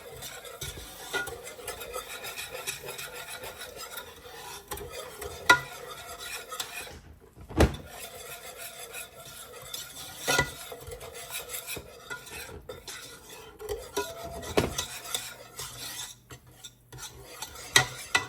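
A whisk scrapes and clatters in a pot as milk is worked into macaroni and cheese, a quiet continuous stirring with occasional sharper metallic taps against the pan rim, no voices.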